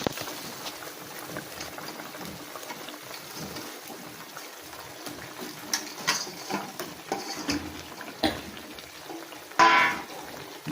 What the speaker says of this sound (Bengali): এবার আমি ঝোলের ভেতরে মাছগুলো দিয়ে দেবো